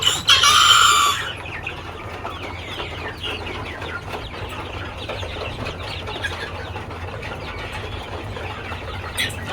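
Chickens on a small poultry farm clucking and feeding together, with a brief crow at the start, then a steady murmur of clucks and scratching, nearby and moderate in level.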